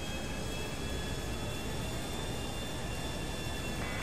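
Steady jet airliner engine roar from Grand Theft Auto 5 in flight, a continuous broadband whoosh with a faint high whine, even and unbroken, with no one speaking.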